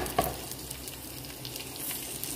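Sliced eggplant sizzling in a pan with sautéed garlic and onion, a steady crackling fry with a brief clatter at the start and small pops throughout, close and clear.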